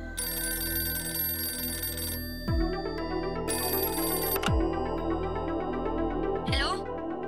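A telephone rings with repeated electronic trill bursts, loud and close, and short gaps fall between the rings while no one speaks.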